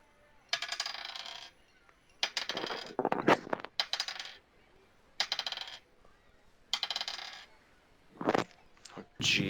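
Dice clattering across a table in repeated short bursts of rattling clicks during a tabletop roleplaying game, spaced out over several seconds, with quiet pauses between rolls.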